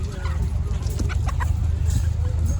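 Hens clucking in short bursts at a chicken market in Ankara, over a steady low mechanical hum, with a few faint voices in the background.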